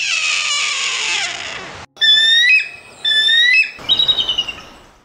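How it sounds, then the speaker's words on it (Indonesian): A hawk calls in a loud, piercing screech that sweeps downward, followed by a few clear whistled cries in quick succession, ending in a short series of rapid pulsed notes that fade. "Suara ini kadang disalahpahami sebagai suara elang, padahal ini adalah suara hawk."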